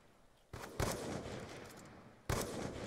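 Two sharp sniper rifle shots in a video game sniper duel, the first a double crack followed by a long ringing tail, the second a single loud report near the end, close and without speech.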